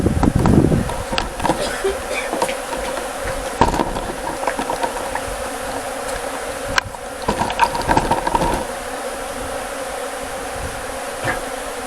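Dense buzzing of many honeybees swarming close by on a brood comb during a bee removal, a constant hum with occasional clicks and bumps, and no talking.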